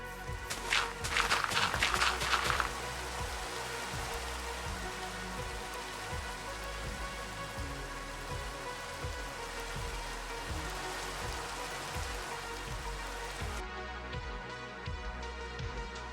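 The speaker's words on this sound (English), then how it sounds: "finally it's night, so we can get rid of this stinky, stinky rain." Steady rain falls in a video game with a dense, even patter throughout, and a few brief loud clattering hits near the start.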